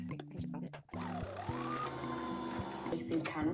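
A sewing machine runs in a steady mechanical whir with rhythmic chugging, close by, starting and stopping briefly before resuming.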